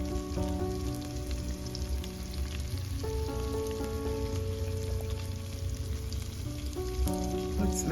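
Pork chops and onion frying in grease, giving a steady, even sizzle that crackles like light rain, heard alongside a sustained tonal background melody with no talking.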